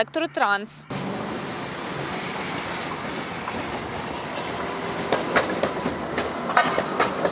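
A tram runs along its line in Odesa, Ukraine, a steady rolling rumble with clacking wheels and rising metallic screeches, close and continuous after a brief burst of voice at the start.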